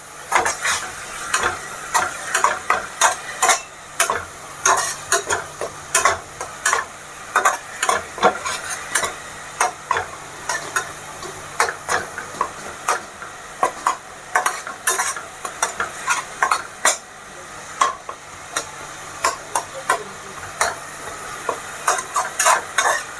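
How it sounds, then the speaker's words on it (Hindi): Onions browning in hot oil in a pan for chole, with a spoon scraping and stirring them in steady repeated strokes over a constant close sizzle. "प्याज को बीच बीच में चलाते रहें"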